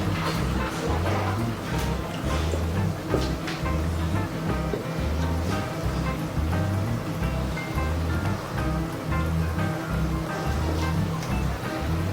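Aquael Hypermax 4500 canister filter spray bar starting up on a 450-litre aquarium, water splashing and bubbling continuously with a low rhythmic churning hum beneath, close and steady without talk.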